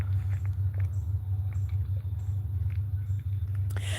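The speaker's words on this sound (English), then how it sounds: "I hear that loud motor." A loud motor vehicle engine rumbles nearby in an outdoor nature setting, a steady low drone running throughout with faint scattered ticks above it.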